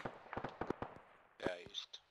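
Gunshots in Arma 3 during a peacekeeping mission, a rapid run of sharp cracks followed by a louder blast and scattered distant reports, with a voice speaking over part of it.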